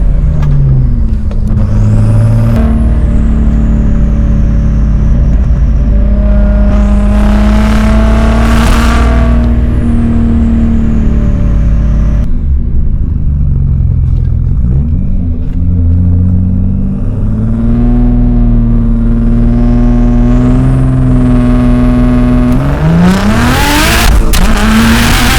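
A 750 hp custom Audi S4 B5 pulls hard on the Autobahn, its engine loud and close as it climbs through the revs in long surges, with gear changes between the pulls and a steady roar of road and wind underneath.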